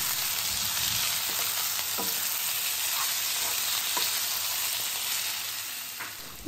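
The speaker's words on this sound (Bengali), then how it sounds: "আর এখন মাটনটাকে 5 মিনিট হাই ফ্লেমে রেখে ভেজে নেব।" Boneless mutton sprinkled with salt frying on high flame, a steady close sizzle with light scattered pops and occasional stirring scrapes, fading slightly at the end.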